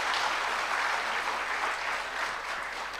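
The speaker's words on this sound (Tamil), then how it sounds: "மீண்டும் ஒரு அரங்கம் நிறைந்த கைத்தட்டல்" Full-hall applause from an audience at a motivational speech event, a continuous wash of clapping that holds steady and eases slightly toward the end, with no voices.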